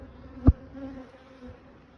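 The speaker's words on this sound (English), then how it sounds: "I took frames with bees on and shook some bees in" Honeybees are shaken off frames into a nuc box: a single soft thump, followed by a faint, low buzzing hum of the bees.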